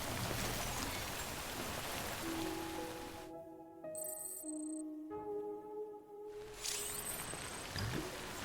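Steady broadband hiss of heavy rain falling in the Death Stranding video game, loud at the start and end with a quieter stretch in the middle where sustained tonal music notes ring out.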